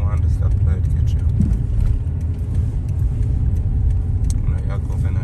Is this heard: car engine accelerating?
yes